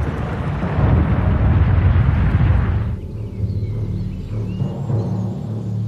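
A huge volcanic explosion unfolds as a deep, roaring rumble with broadband blast noise that swells for about three seconds before dropping to a lower, lingering low-end rumble.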